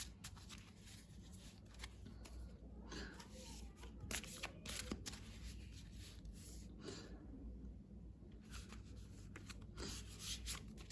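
Tarot cards are shuffled and drawn by hand, producing faint, close, repeated papery riffling and rubbing in uneven bursts over a low background hum.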